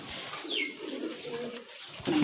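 Soft, low pigeon cooing close by, a short murmuring call with a faint chirp or two mixed in.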